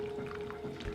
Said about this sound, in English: And we pour it all over the vegetables.